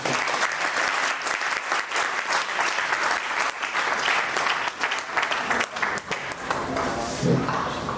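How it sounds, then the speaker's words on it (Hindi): Sustained applause from a large audience at a motivational talk, dense and steady throughout, loud and continuous with crowd texture and no break. "तालियों के साथ थैंक यू"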